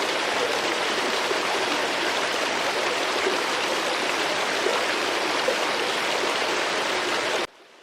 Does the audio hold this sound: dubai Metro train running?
no